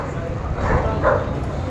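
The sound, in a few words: dog barking at a dog market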